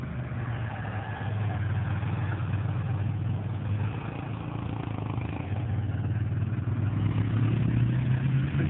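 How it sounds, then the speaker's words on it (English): Several motorbikes pass on a mountain road in Switzerland, a steady mid-pitched engine drone that holds throughout and swells slightly toward the end, heard from a distance without talk. "Go some motorbikes."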